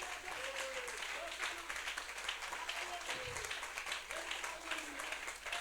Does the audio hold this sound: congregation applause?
yes